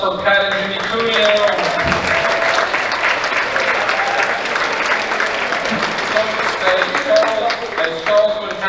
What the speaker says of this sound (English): Another round of applause for Pat and Jimmy Cuneo.